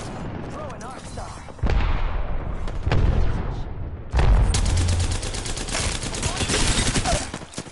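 Rapid gunfire bursts and heavy impacts in the battle royale game Apex Legends, loud and dense with sharp shots, with in-game voice callouts mixed in.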